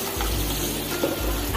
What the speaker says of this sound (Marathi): आता ह्यामध्ये हा मसाला थोडासा तेलामध्ये परतून घ्यायचा आहे